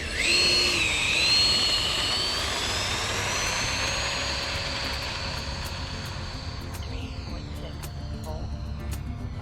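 A Freewing F/A-18 Super Hornet RC jet spools up and takes off with a high whining electric ducted-fan scream that rises, then fades as it pulls away, over steady background noise.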